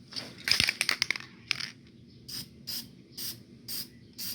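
Several short hissing bursts of aerosol spray sizzling on a hot, broken Honda CRX exhaust and muffler, first a quick cluster of sharp sizzles, then evenly spaced puffs repeating at a steady rhythm.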